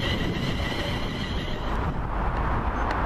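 A ScotRail Class 380 electric train pulls out of a station on a Gourock to Glasgow service, giving a steady, loud rumble with rising hum that stays close throughout.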